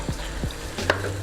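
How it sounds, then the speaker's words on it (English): Chicken noodle soup is given a quick stir in a pot, a brief soft scrape and swirl over a low simmering hiss, close by and unaccompanied by talk. "Give that a little stir"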